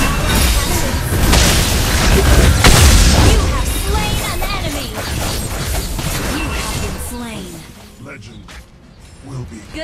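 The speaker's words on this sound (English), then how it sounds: "Bomb, gentlemen, bomb!" Explosive booms and crashing effects from Mobile Legends: Bang Bang play loud and dense for most of the stretch, with a voice talking over the battle before the din thins out near the end.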